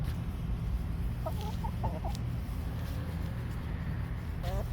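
Hens cluck in short bursts at a moderate distance, a few soft clucks then a brief call near the end, over steady low background noise.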